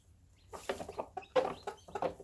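A few soft clucks from nearby chickens, short and irregular over a quiet background.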